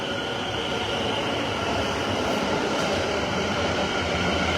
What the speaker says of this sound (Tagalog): Parating na. Ayun ang tren.